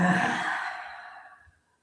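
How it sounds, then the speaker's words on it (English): A full breath pushed out through the mouth during yoga in child's pose, a close, breathy exhale that starts strong and fades away over about a second and a half. "Big breath in. Full breath out the mouth."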